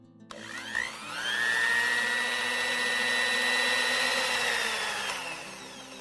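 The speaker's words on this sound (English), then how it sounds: "grind this again into a fine pulp" A mixer grinder spins up and grinds shredded purple cabbage into a fine pulp, with a steady high-pitched motor whine and a rough churning under it. It rises quickly, holds for several seconds and then winds down.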